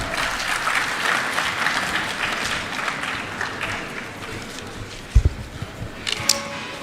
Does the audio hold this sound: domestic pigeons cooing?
no